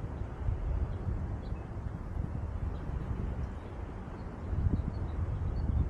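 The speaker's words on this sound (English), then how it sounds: "And there's the wind." Steady low wind buffeting outdoors on the water during kayak fishing, a continuous rumble with gusts that swell near the end, close to the microphone.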